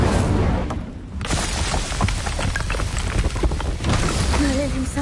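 Incendio fire spell cast in the video game Hogwarts Legacy: a dense, loud burst of crackling, rushing effects with booming thuds, continuous for several seconds.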